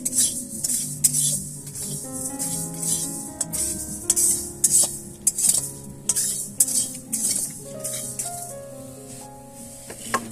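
Lentils fried for bhuni khichdi are stirred in a pan, with a metal spoon scraping and clinking against the pan in uneven strokes over a steady sizzle close by.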